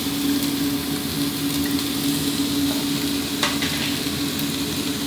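Vegetarian fried rice is stir-fried in a pan with a steady, dense sizzle and a few scraping stirs. It sounds close and continuous, with no speech over it.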